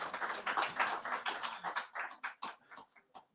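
Scattered clapping from a modest audience at a forum event honoring a Vice President, irregular bursts of hands at moderate distance that thin out and fade into separate claps toward the end.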